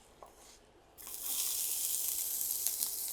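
Coriander seeds and chili frying in hot oil, the sizzle suddenly swelling to a loud, steady hiss with faint crackles after a quiet start.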